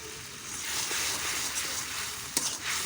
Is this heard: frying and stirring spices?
yes